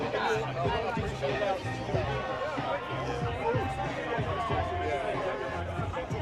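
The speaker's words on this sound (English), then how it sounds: "It's a big crowd though, always." A big crowd on a march in Crowborough makes a steady wash of overlapping chatter and voices, continuous and fairly close, with no single speaker standing out.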